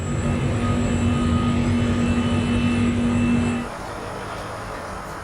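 Airliner engines idling while the plane waits in a queue for takeoff: a steady, loud cabin drone with a constant tonal hum that drops slightly in level partway through, with no talk.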